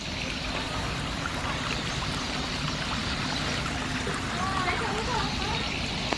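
River water flows steadily beneath a bridge, a continuous broadband rush with people talking over it.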